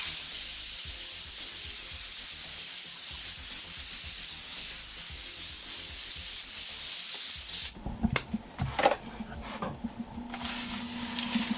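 An airbrush sprays white paint in a wide pattern, hissing steadily and evenly for several seconds before it cuts off. Scattered clicks and handling noises follow.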